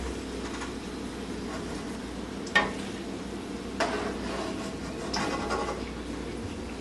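Chapli kebab frying in a shallow layer of hot oil, a steady soft sizzle with a few sharp clinks or scrapes on top and no talking.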